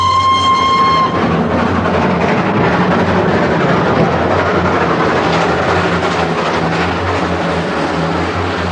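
A train at Aldgate Station staged as a radio drama sound effect: a steady loud rumble of rolling rail noise with low engine drone, opening with a brief high whistle-like tone that fades after about a second.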